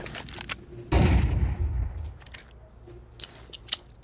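A flashbang grenade goes off in Counter-Strike 2 with a loud, sharp blast that trails into a hissing decay, set among a few quieter clicks and game noises.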